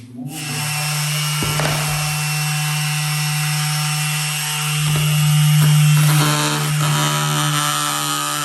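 A power saw trimming a small piece of wood for a wonky bedroom ceiling, a loud, steady motor whine held for several seconds with brief dips as the blade bites, close and without talk.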